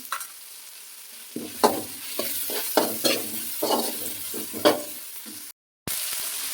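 Tomatoes sizzle in a pan with carrot and onion for vermicelli upma, stirred in a run of scraping strokes over a gentle frying hiss, with a brief dropout near the end.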